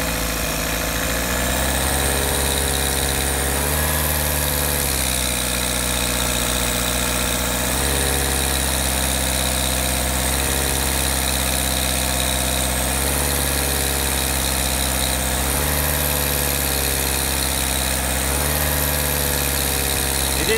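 A car engine held at 2000 rpm during EGR valve cleaning runs for a long stretch, a loud continuous drone with slight periodic wavering.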